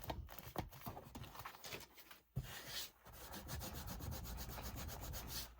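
Fabric tack glue being rubbed off a junk journal binding, a steady close scratchy friction that runs almost continuously, with a few short pauses between strokes and no talking.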